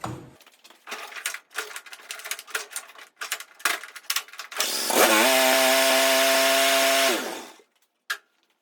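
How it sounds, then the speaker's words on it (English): A John Deere D140 lawn tractor with a replaced ignition coil is worked on with clattering mechanical noises, then its engine cranks and runs briefly with a steady loud drone for about two seconds before cutting out, followed by a single clunk. "Now I just want to fire this thing up and make sure it runs"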